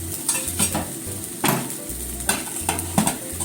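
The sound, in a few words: Korean chive pancake (chijimi) frying in a pan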